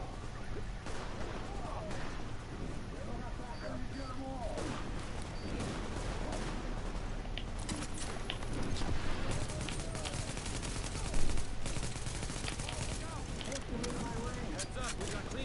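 Gunfire in The Division plays throughout as dense bursts of rapid shots and automatic fire, with a louder crack near the end, while voices talk over the battle.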